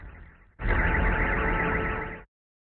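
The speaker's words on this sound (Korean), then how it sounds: "건물 주차장에는 공습경보 사이렌이 요란하게 울립니다." An air raid siren blares in a building parking lot at night, a loud, steady electronic wail that starts abruptly after a quieter tone, holds for under two seconds and then cuts off.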